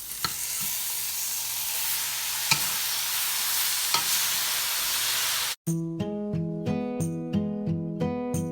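Noodles tossed and stir-fried in a hot pan after soy sauce, with a steady close sizzle broken by a few scraping stirs, then a brief cut to quieter, clattering tonal sounds.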